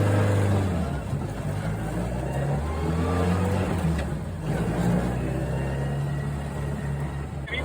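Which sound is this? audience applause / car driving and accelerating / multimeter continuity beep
car driving and accelerating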